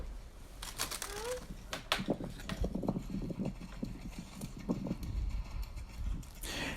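Horse hooves clip-clop in an irregular rhythm on soft ground during a jumping lesson, fairly faint, with occasional snorts and no talking.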